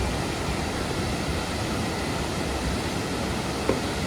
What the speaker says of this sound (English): Tadlow Waterfalls.